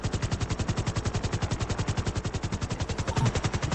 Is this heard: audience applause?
no